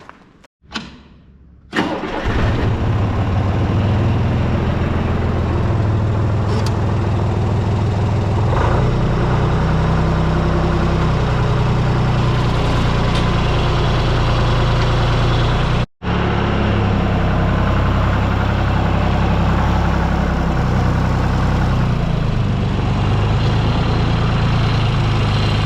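A heavy tractor engine cranks and catches, then settles into a loud, steady low idle that runs on, briefly cutting out once before resuming.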